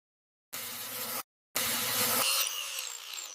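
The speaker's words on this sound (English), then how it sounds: "Now just gently grinding down these weld beads." Angle grinder gently smoothing weld beads on the door frame of a 1963 Jeep Wagoneer. Two steady, close hissing bursts are heard: a short one, then a longer one that thins out and fades.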